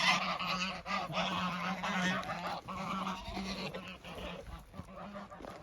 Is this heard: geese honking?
yes